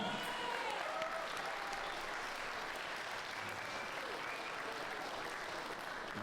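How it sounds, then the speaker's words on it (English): Crowd at an amateur K1 kickboxing fight night applauds both 65 kg fighters after the bout, a continuous wash of clapping heard at a moderate distance, steady and fairly soft. "a round of applause for both these gladiators"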